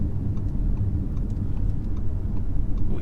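A 2020 Audi A6 Avant 45 TFSI quattro is driven hard, a steady mid-pitched engine drone with road rumble and faint ticking, close and continuous, with no talk.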